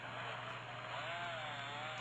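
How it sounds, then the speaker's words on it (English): A chainsaw in the video game MDickie's Extra Lives gives a continuous, steady buzzing motor drone with a slight wavering pitch, heard alone at moderate level. "I got a chainsaw."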